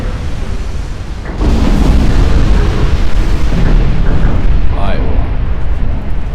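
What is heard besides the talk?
17-inch naval guns firing in Ultimate Admiral Dreadnoughts video game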